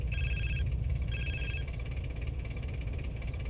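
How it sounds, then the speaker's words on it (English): A phone rings in the video game Grand Theft Auto San Andreas: two electronic trilling rings separated by a short gap, clear over a low engine rumble, with no talk. "so I'm expecting some sort of phone call now."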